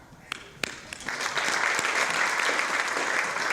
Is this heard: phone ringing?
no